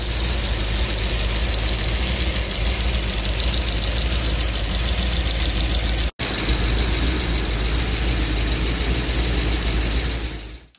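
Idling 406 small-block Chevy fitted with Rhoads lifters, a steady rumbling idle with rapid ticking valvetrain clatter throughout, recorded up close, briefly cut out for an instant midway.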